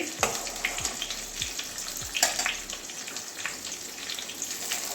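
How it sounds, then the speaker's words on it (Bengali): Pointed gourd pieces fry in hot oil with a steady close crackle and sizzle, dotted with quick spattering pops and a few light knocks. "লাল করে ভেজে নেবো পটলগুলো"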